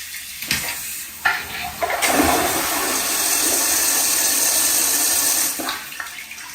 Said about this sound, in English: And this is a full flush.